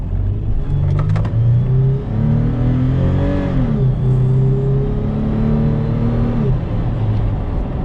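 A 2018 Toyota 4Runner TRD Off-Road with its 4-liter engine accelerating hard from a standstill, a loud, steady engine drone rising in pitch through the gears, heard from inside the cabin.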